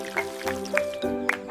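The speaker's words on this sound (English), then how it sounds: "Here's some water to help you grow big and strong." Water trickles and drips onto a freshly planted seed, a short run of soft wet splashes and droplets with a faint tonal hum underneath.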